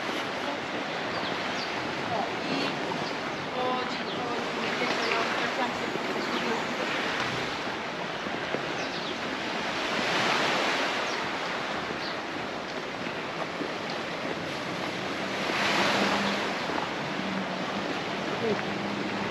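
Turbulent, murky sea surf at a beach in Santa Ponsa, Mallorca, a steady broadband wash with swells cresting around 10 and 16 seconds, mixed with wind buffeting the microphone and faint voices in the background.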